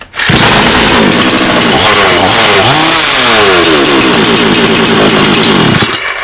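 A Svityaz chainsaw just repaired with a new start button roars to life, very loud and close, its two-stroke engine revving up and down in rising and falling sweeps before cutting off.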